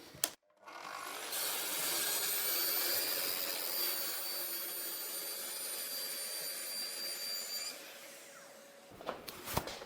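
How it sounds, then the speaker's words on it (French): A Freud circular saw blade cuts through aluminium, giving a loud, sustained, high-pitched metallic whine for about six seconds, with the motor spinning up before the cut and winding down after it. "tu vas voir avec quelle facilité je découpe l'aluminium."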